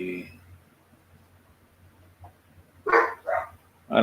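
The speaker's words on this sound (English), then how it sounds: "I don't know what's going on with my dogs." Several dogs bark in short loud bursts near the end, two or three quick barks close by after a quiet stretch with faint background hum, with a brief voice at the start.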